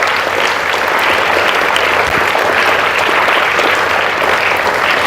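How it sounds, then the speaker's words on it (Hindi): Loud, steady applause from an audience honouring soldiers who guard the border on Kargil Vijay Diwas, a dense, even wash of clapping lasting the whole stretch, close and full with no talk. "तो एक जोरदार तालियां उन सबके लिए जो बॉर्डर पे हमारी सेफ्टी कर रहे हैं।"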